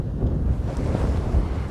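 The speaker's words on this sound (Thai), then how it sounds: "วันนี้มีลมโชยอ่อนๆนะคะแต่ก็หนาวค่ะ" A light, cold breeze blows across a seashore where sea kale is gathered, a steady low rushing wind buffeting the microphone with faint surf beneath it, no voices.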